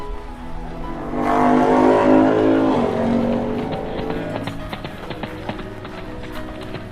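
A cartoon horse cart pulls away with a rush of wheel and movement noise, then horse hooves clip-clop in a quick, even rhythm that slowly fades into the distance.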